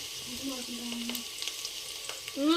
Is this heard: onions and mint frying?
yes